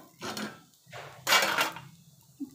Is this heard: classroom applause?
no